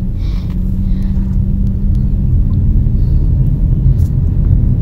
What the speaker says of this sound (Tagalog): Dito lang tayo sa loob ng sasakyan mag-video.